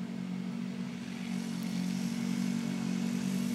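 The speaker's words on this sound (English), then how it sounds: "Here comes another motorcycle, almost as noisy as the last guy." A motorcycle engine drones steadily at moderate distance, its low rumble swelling slightly as it goes past.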